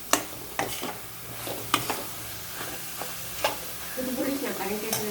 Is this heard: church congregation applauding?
no